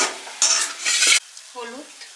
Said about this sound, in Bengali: সেদ্ধ করে ছোলার ডালটা দিয়ে দিলাম